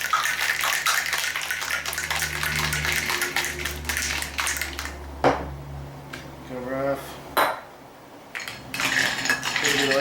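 A cocktail shaker holding juice and a drink gets shaken hard, a loud rapid rattling of ice against metal for several seconds that breaks off, followed by clinks and pouring.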